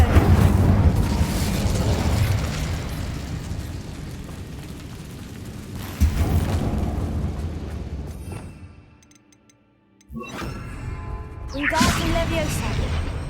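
The Incendio fire spell is cast in the Hogwarts Legacy video game, with loud whooshing bursts and booms that recur and fade. A near-silent gap falls before a final flare.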